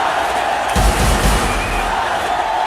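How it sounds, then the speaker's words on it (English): A packed cricket stadium crowd screams and roars for the Little Master, a loud continuous wall of cheering that swells in a brief surge midway. "You can hear the crowd screaming for their favourite, the Little Master"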